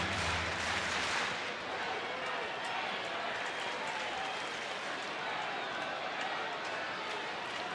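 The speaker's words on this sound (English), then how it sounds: "Crowd trying to get into it a little bit." A baseball crowd at a night game, Oakland at Texas, claps and murmurs steadily at a distance, a broad wash of sound running the whole stretch with a commentator talking over it.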